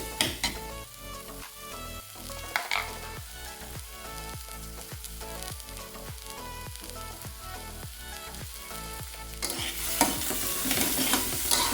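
Spices fry with salt, turmeric and Kashmiri chilli powder for tadka dal, a steady close sizzle cut by regular rhythmic scraping strokes of a spatula in the pan, growing louder and hissier toward the end, no talking.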